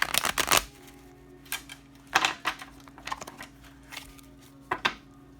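Several quick bursts of cards being shuffled, riffled in short rapid flurries separated by pauses, close and crisp with a steady low hum beneath.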